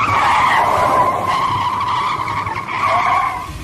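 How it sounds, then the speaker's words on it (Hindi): A car skids off a highway in a dramatised sound effect, a loud, close, sustained tire squeal wavering in pitch for several seconds with a brief dip before it screeches again. "गाड़ी बंद हुई और सड़क किनारे मिट्टी में कुछ दूर खिसती हुई जाकर रुक गई।"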